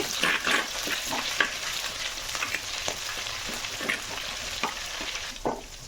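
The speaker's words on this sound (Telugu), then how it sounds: "కాస్త ఆవాలు ఇంకా జీలకర్ర పచ్చిమిరపకాయ కరివేపాకు ఇవన్నీ వేసుకుని లైట్గా వేయించుకుంటున్నాను" Mustard seeds, cumin, green chillies and curry leaves sizzle and crackle in hot oil, with scattered pops over a steady hiss as they are stirred.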